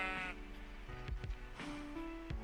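Sheep in Minecraft bleat twice, short wavering cries close up, one at the start and a longer one midway, over a soft steady background hum with no talk.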